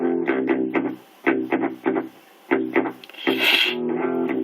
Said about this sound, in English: It just sounds like a regular guitar.